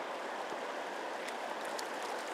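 Steady broadband rush of river water flowing at a river park in Buena Vista, close and continuous with no voices.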